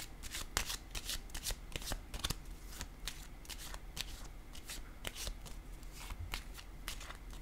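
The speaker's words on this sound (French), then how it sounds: "je vais piger une carte ici" Playing cards are shuffled and drawn in a quiet room, a steady run of close, crisp riffling flicks and snaps repeating rapidly throughout without any talking.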